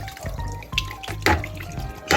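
Liquid sloshes and gurgles inside a fuel pump part from a 2004 CBR1000RR as it is shaken and poured out, with several close, uneven splashes and bubbly glugs.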